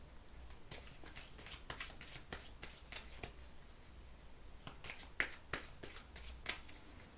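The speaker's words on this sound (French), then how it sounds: "je vais quand même tirer une carte supplémentaire" Tarot cards being shuffled and drawn, heard as a rapid series of crisp, close riffling snaps and flicks in short irregular bursts.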